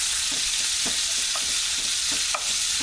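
Stew beef for crock pot chili browns in a hot pan with a loud, dense, continuous sizzle, punctuated by regular light scrapes and taps of a stirring utensil.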